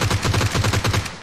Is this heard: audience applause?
no